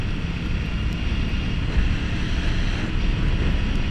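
Strong wind roars steadily across a helmet microphone on a moving motorcycle, a loud constant rumbling buffet with no voice.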